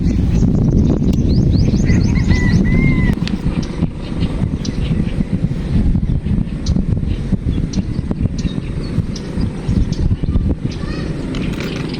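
Strong wind buffeting outdoors, a loud rushing roar over the microphone, with a few bird chirps faintly audible underneath.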